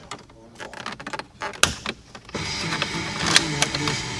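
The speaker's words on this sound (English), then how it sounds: "We're going to remove the factory surround from the dash with a plastic pry tool." A plastic pry tool pops the factory radio surround loose from a Jeep Renegade dashboard, giving sharp plastic clicks and snaps between creaking scrapes, close and a few seconds long.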